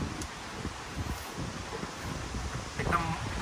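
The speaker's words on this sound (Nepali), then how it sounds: "हिमालको साइडतिरबाट चाहिँ हावा चलेर दक्षिणतिर जाँदैछ" Wind gusts during a village storm, blowing from the Himalayan side toward the south, with leaves rustling in bursts and a low buffeting roar against the microphone under a man's speech.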